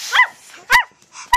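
A person imitates a puppy's barking, giving three short, sharp woof sounds close to the mic, spaced roughly half a second apart.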